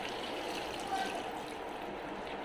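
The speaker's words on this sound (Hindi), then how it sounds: "पानी ऐड कर देते हैं।" Water pouring into a kofta curry gravy in a pan, a steady close rushing trickle that keeps on without a break and with no speech.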